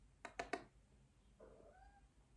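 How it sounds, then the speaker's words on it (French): A house cat gives three quick close meows in a row, followed by a softer, longer meow after a short pause, against a quiet room. "C'est mon chat."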